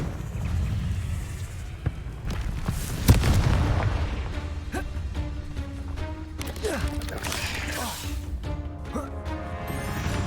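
Spell blasts from a Hogwarts Legacy wizard duel, with a sharp booming burst near the third second and scattered crackling impacts and magical effects around it over steady game noise, a voice talking at times.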